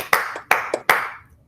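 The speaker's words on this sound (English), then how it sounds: "Let's talk about that clap." Three sharp hand claps in a quick, even rhythm during a multiplication practice song, close and crisp, each trailing off briefly.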